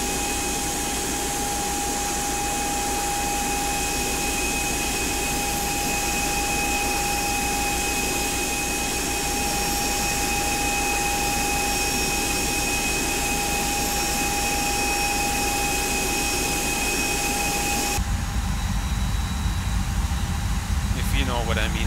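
Air conditioning packs of an Airbus A320 in a flight simulator soundpack give a steady, loud broadband hum with constant whining tones throughout, shifting abruptly to a deeper, rumbling airflow tone near the end.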